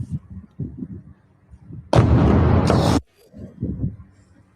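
Missile strike explosion heard from a played video clip: a sudden loud roaring blast lasting about a second, broken by crackling bursts, after muffled voices and before more distant talk resumes.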